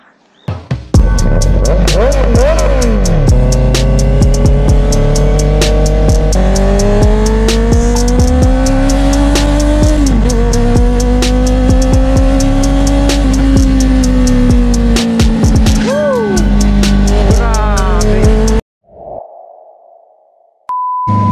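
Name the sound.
Honda CB650R motorcycle with aftermarket exhaust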